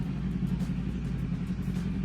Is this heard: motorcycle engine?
yes